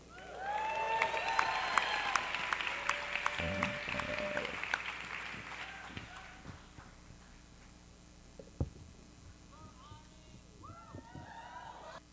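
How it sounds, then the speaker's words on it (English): Audience applause and cheering at a Young Storytellers show, loud and broad for the first five seconds, then fading into scattered claps and murmuring crowd noise. "Another round of applause for our students, actors, Max."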